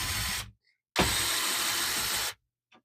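A power screwdriver whirs twice while taking a screw out of the side panel of a Canon Pixma TS702 printer: one short burst, a pause, then a longer run of about a second and a half, close and fairly quiet.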